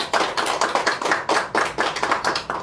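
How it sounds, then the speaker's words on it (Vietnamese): Audience applause at a prize draw event, a steady run of brisk, fairly close hand claps lasting a few seconds with no talking. "Xin một tràng pháo tay"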